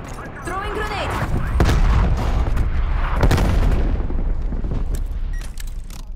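Grenade explosions and rapid gunfire in Call of Duty: Black Ops Cold War multiplayer, with repeated booms and bursts of shots layered densely over several seconds, and game voice callouts heard amid the combat.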